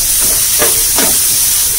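Ground shallots and garlic paste sauté in a hot pan, giving a loud, continuous steamy hiss with two brief swells as the mixture is stirred, close up and with no talking.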